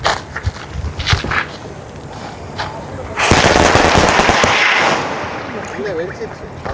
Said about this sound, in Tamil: அடுத்த பட்டாசு சாம் வச்சாச்சு.